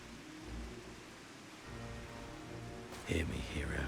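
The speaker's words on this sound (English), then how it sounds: "The rain makes this even better." Steady rain falls in a Final Fantasy XIV scene, a broad even hiss with low rumbling underneath, joined near the end by a louder burst of game sound.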